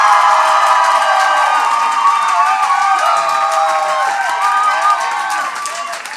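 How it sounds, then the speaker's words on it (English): Loud audience clapping with cheering and high excited shouts for Laura's hat in a hat contest at an awards gala, a sustained enthusiastic crowd reaction that eases off toward the end. "Can I hear the claps for Laura's hat?"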